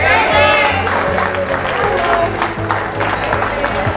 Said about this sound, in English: a lot of people clapped on that.